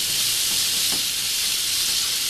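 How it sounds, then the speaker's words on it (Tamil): Finely chopped onions sauté in a hot pan for a squid dish, making a steady, even hiss that holds at the same level throughout the short stretch. "ஒரு 2 to 3 seconds வந்து இந்த வெங்காயம் நல்லா வதங்கணும்"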